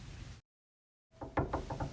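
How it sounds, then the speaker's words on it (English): A door knock sound effect in an animated read-aloud story, heard as a quick run of several knocks after a brief silence, close and fairly loud over a low background bed. "A knock on the door made Scotty hide under the bed."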